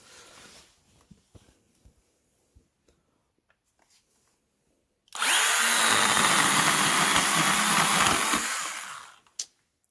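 A STIHL power tool cutting a tree branch: after a few light clicks and handling knocks, the motor bursts into a loud, high-pitched whine for about four seconds, then cuts off sharply.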